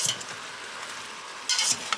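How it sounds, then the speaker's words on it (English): Onions and celery sauté in an Instant Pot as a utensil stirs them, a soft sizzle broken by a couple of short scraping bursts close by, with no speech. "Mix this all up and then cook it until the onions are translucent"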